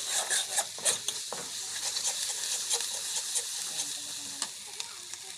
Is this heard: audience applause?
no